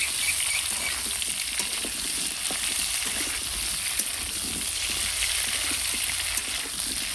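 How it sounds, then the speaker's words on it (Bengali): Cubed potatoes fry and sizzle steadily in a pan for a Bengali potol-chingri curry, with intermittent scraping and stirring of a spatula throughout, close and continuous with no talking. "আলুটা একটু ভালো করে নাড়াচাড়া করে নিই।"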